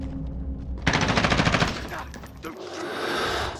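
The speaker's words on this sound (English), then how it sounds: "They're shooting at me." Rapid automatic gunfire in Call of Duty's Domination multiplayer mode, a close, loud burst of evenly spaced shots lasting about a second and a half, followed by rattling battle noise.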